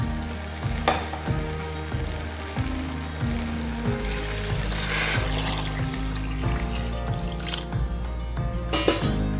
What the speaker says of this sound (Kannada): 4 ಲೋಟ ನೀರು ಹಾಕ್ತಿದ್ದೀನಿ.